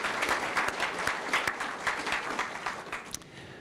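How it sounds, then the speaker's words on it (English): An audience of families and friends applauds at a student event, dense clapping filling the room steadily for a few seconds with occasional sharper individual claps. "round of applause for everybody else"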